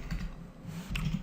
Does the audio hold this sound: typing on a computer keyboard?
yes